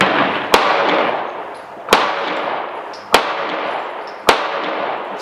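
A 1911 pistol fires S&B ammunition at an outdoor range, four sharp reports spaced about a second apart, each followed by a brief ringing decay over steady background noise.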